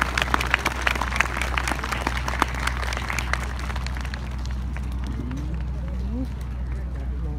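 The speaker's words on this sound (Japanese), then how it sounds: "赤田隊にもう一度大きな拍手をお願いします。" Audience clapping at a cherry blossom festival concert by a police wind band in Okayama, Japan, fairly loud at first and thinning out, over a low steady hum, with a voice briefly audible near the end.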